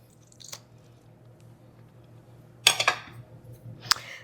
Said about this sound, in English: A knife so I can cut me a piece of shrimp.